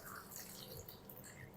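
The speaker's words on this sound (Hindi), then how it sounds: "पानी डाल देंगे, सादा पानी" Plain water is poured onto salted bitter gourds (karela) in a kitchen, a soft, faint splashing and trickling that lasts about a second and a half.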